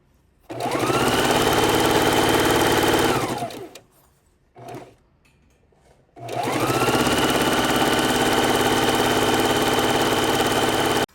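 Sewing machine stitching quilt strip rows together, two loud steady whirring runs of about three and five seconds, separated by a short pause and a brief burst.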